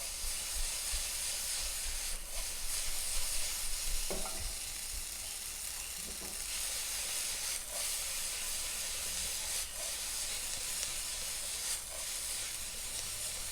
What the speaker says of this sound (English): Add some more and stir fry this.